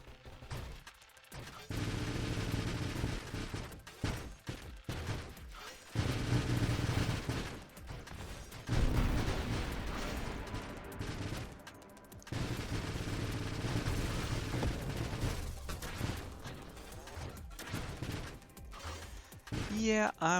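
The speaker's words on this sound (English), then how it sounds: "So now we got 4 of them up there shooting blades at people," In Nova Drift, interceptor ships fire blades in a dense, near-continuous barrage of rapid shots and impacts, with a few short gaps, alongside occasional game effects.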